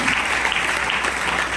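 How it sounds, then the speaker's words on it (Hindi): A large audience claps loudly at an RCM company program in Chandauli, celebrating its 25th anniversary, with dense, sustained applause filling the whole moment. "एक बार इसलिए जोरदार तालियां होनी चाहिए।"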